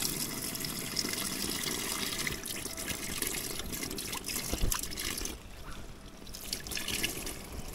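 Water trickles and splashes steadily into a container being filled beside a tent at a rainy, stormy campsite in Laguna province, a continuous close stream with rain noise behind it and no talking.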